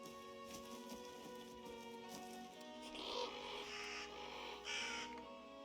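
Crows cawing in the video game Reka, several harsh calls repeating over a droning ambient background, fairly close and prominent.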